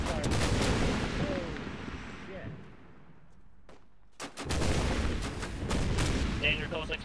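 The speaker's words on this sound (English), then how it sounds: "Danger, close explosion." Video game gunfire and explosions: heavy bursts of gunfire and booming blasts crowd the opening seconds, dropping to a quieter lull before another loud barrage of shots and explosions erupts.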